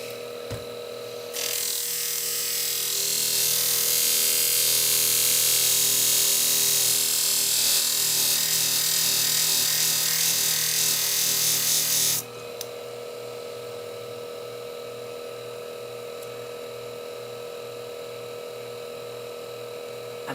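A worn-out Joewell hair-cutting shear is sharpened on a grinder, giving a loud, steady high-pitched grinding hiss that runs for about ten seconds and then cuts off, leaving a lower motor hum.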